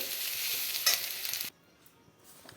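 Radish with slit green chillies sizzles in a pan while being stirred, a brisk frying hiss with a stirring scrape that cuts off abruptly midway, leaving near silence.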